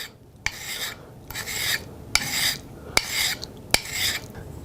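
A corner chisel is sharpened by rubbing its edge, producing harsh raspy scraping strokes in a slow back-and-forth rhythm, punctuated by sharp metallic clicks between strokes, close and loud with no talking.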